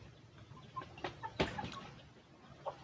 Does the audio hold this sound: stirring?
no